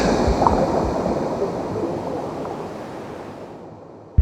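Ocean waves used as a sound effect in an audio drama, a steady broadband wash of surf that stays full and continuous before fading out abruptly at the end.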